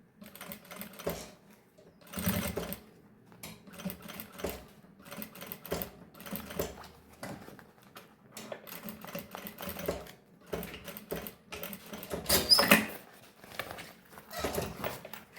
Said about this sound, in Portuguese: Agora, eu vou passar uma costura aqui, ó, juntando essas 2 partes também.